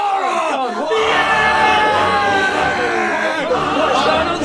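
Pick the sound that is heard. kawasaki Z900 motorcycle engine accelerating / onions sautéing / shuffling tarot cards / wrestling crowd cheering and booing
wrestling crowd cheering and booing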